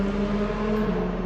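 A motorcycle engine hums steadily as the bike rides off, a continuous moderate drone with an even low rumble and no break.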